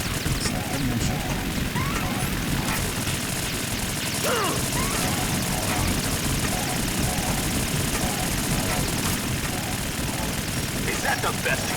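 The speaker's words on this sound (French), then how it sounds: "C'est un hélicoptère." A helicopter in the PS2 game Metal Gear Solid 2: Sons of Liberty, a dense, continuous rotor roar filling the scene, mixed with bursts of gunfire and someone talking over it.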